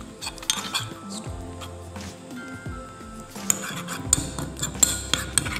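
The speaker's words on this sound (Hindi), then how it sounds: "इसको अच्छी तरह मिक्स कर लें" A spoon scrapes and clinks against a bowl while tomato and pomegranate paste is stirred together, giving irregular tapping knocks and scraping strokes at close range, with no talking.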